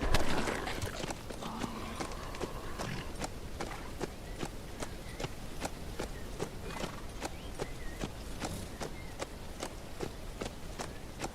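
Horse hooves galloping in the zombie survival game HumanitZ, a steady rapid run of sharp thuds repeating for the whole stretch over a constant rushing background.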